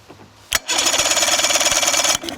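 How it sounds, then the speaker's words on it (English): Starter motor on an old outboard motor cranking the engine over in one steady burst of about a second and a half, a loud rapid mechanical chug after a brief click, close up with no talking. "you can see it does turn over, so there's nothing wrong with this starter"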